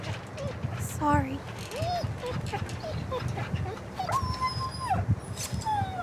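A dog whimpers in The Walking Dead Telltale video game, with rising and falling whines and yelps repeating across several seconds over a low rumbling background, while a voice talks in places.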